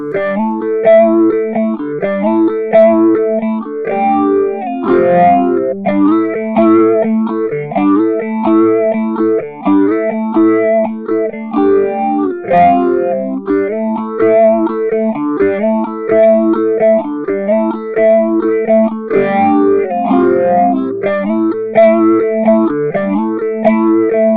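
Distorted electric guitar plays a steady riff through a BOSS PH-3 Phase Shifter pedal on its rise setting, the tone swirling and thinning as it continues; no voices.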